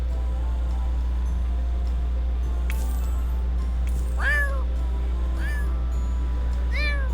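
A game cat in The Sims meows several times in short rising-and-falling calls, clear and close, over a steady low hum.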